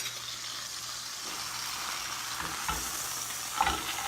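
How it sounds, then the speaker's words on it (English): Rack of lamb searing in a hot pan as it is flipped, a steady frying sizzle with soft bumps and a clatter near the end, close with no talking. "I'm going to go ahead and flip our lamb"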